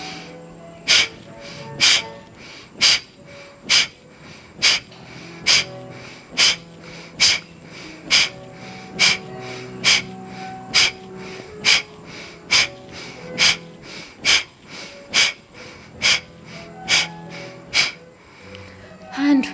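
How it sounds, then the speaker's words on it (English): Rapid forceful nasal exhalations in Kapalabhati breathing repeat at a steady pace of roughly one per second, each a short sharp puff, close and clear, with no talking over them. "And for Kapalabhati, we'll take a breath in."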